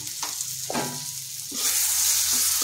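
Tomato goes into hot oil in a pan while cooking a vegetarian gathi kochu (taro) curry, raising the ongoing frying hiss into a louder, brighter sizzle. A few stirring scrapes can be heard before the tomato is added.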